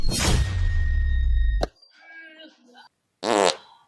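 A long, loud, rumbling fart sputters up close and ends in a sharp pop, followed by a short squeaky burst and a voice speaking briefly in between.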